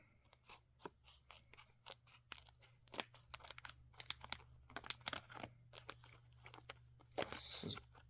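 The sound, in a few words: scissors cutting thick Copenhagen snuff packaging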